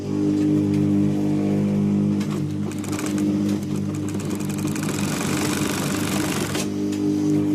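A sewing machine stitches a Piko decorative design, running with a steady close mechanical hum and rapid needle chatter that speeds up midway before easing off.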